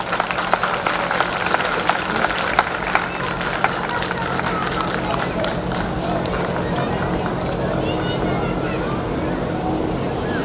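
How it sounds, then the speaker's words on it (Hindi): Dense, steady applause from a large audience welcoming the chief guest on stage at a Dr. Ambedkar Jayanti 2019 celebration, continuous and loud throughout with a low hum beneath. "जोरदार तालियां सर के लिए।"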